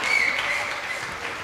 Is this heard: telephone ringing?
no